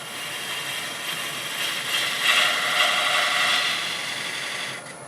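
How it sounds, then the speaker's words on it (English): A detail spindle gouge cuts Bradford pear wood on a spinning lathe, giving a steady, close, rasping hiss that swells in the middle and then eases slightly, with no talking. "I'll do that with this detail spindle gouge."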